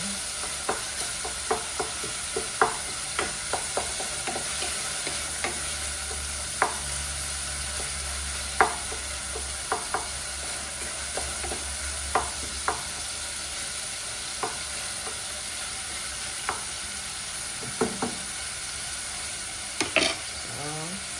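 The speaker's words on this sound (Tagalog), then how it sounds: "So, haluhaluin lang natin." Kabsa rice being stirred in a frying pan, sizzling steadily with scattered scrapes and clinks of the utensil against the pan, close and fairly quiet, with no talk.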